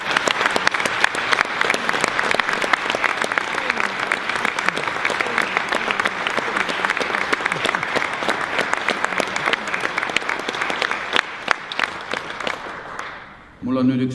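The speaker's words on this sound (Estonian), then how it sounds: "teeme praegu kõik vilistlased õpetajatele ühe tulise aplausi" Former students give their teachers a sustained round of applause at a school alumni assembly, dense steady clapping from a large crowd lasting over twelve seconds before fading out as a voice starts.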